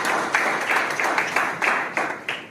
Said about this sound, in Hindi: एक बार जोरदार उनके लिए आप सब धन्यवाद अर्पण के लिए तालियां बजा दीजिए।